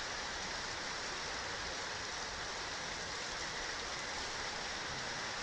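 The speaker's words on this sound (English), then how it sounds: "It is pouring outside." Heavy rain pours outside, heard from below ground as a loud, steady, unbroken hiss that fills the whole stretch with no voices over it.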